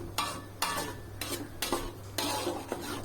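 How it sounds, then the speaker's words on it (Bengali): Dry red chili powder, cumin powder and ginger-garlic being stirred in a pan, spatula strokes scraping the metal in several uneven bursts over a low sizzle and a faint steady hum, close by, no voices. "শুকনা মরিচের গুঁড়াটা দিয়ে কিছুক্ষণ এখন নাড়বো"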